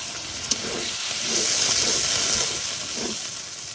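A little water poured into frying onion, ginger and garlic sets off a loud, steady hiss of steam that swells in the middle and eases off toward the end.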